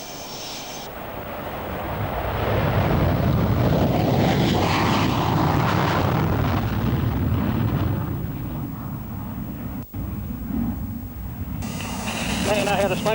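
The twin General Electric jet engines of an RAAF F18 roar in a steady, loud, broadband rush with wind buffeting, heard from inside the aircraft in 1985, with a voice talking over it.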